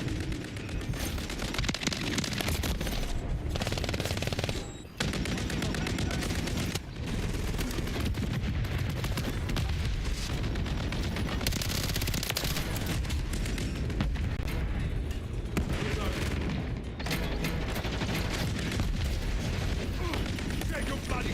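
Continuous battlefield gunfire and explosions rumble through a Call of Duty: Modern Warfare III multiplayer match, dense and loud for the whole stretch, with brief drops and voices calling out amid the shooting.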